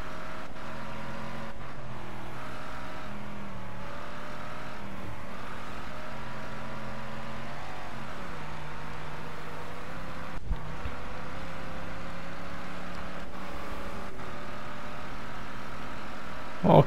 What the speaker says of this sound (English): now I'm driving fast and I do like it